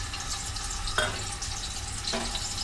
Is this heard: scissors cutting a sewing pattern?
no